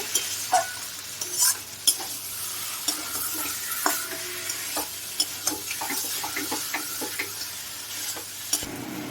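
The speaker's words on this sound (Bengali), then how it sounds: "এই আলু দিয়ে এবার মশলাটাকে আরও কিছুক্ষণ কষিয়ে নিতে হবে।" Spice paste and potatoes fry in a pan for a prawn curry, giving a soft, continuous sizzle broken by repeated scraping and tapping strokes of a stirring utensil, fairly quiet and close.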